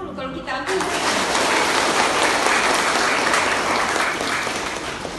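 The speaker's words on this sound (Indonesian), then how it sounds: "Tepuk tangan dulu kalau kita ambil." An audience at a talk about public service bursts into applause after a brief voice at the start, holding a dense, steady clatter of many hands for about four and a half seconds.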